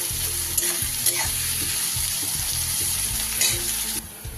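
Onion fries in ghee with a dense, loud, close sizzle while being stirred, with soft scraping knocks throughout, and the hiss eases slightly near the end.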